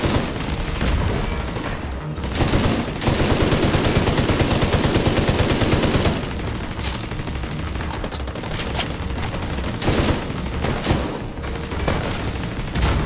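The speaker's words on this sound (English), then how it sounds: "My turret's just rapid firing too. It's not stopping. Look at that turret go." A deployed turret in The Division 2 fires relentlessly in rapid, rattling bursts mixed with booming explosions and other gunfire, loud and continuous for the whole stretch.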